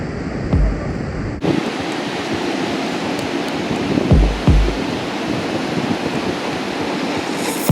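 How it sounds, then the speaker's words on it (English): Ocean waves breaking on a beach, heard as loud, continuous surf roar with a sudden swell and a few heavier crashes rolling in, no voices. "I must say that the waves are pretty shitty."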